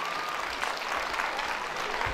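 Outdoor festival crowd applauds in memory of earthquake victims, a steady wash of distant clapping across the whole moment, moderately loud and even.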